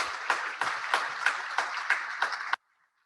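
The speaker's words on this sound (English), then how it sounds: "A round of applause for these returning board of directors." Sparse clapping at a Rotary Club hybrid meeting honouring returning board members, a small group with distinct individual claps in a loose rhythm before stopping abruptly.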